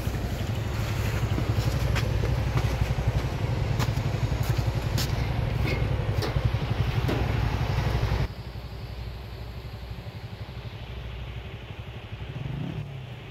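A motorcycle engine runs steadily up close, loud and continuous for about eight seconds, then drops to a quieter, lower idle-like rumble with a small swell near the end.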